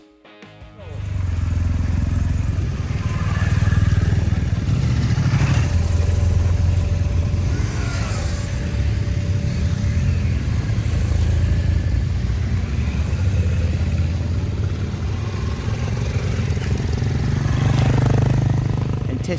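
Motorcycles ride off from an adventure motorcycle festival in the Mojave Desert, their engines producing a steady, continuous rumble and drone throughout, with some voices faintly mixed in.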